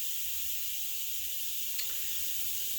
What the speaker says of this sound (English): So the steam is coming out.